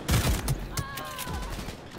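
Rapid automatic fire from the Skippy smart gun in Cyberpunk 2077, a burst of gunshots in the first half-second followed by scattered shots, with game sounds and a faint voice in the mix.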